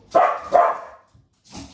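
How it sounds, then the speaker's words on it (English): Dogs barking close by indoors: two quick loud barks in a row, then a softer third bark after a short pause, with no one talking. "my dogs are barking"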